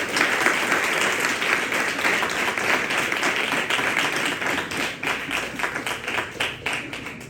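A church Christmas convention crowd claps loudly and continuously, a dense wash of applause that gradually thins into more separate claps toward the end.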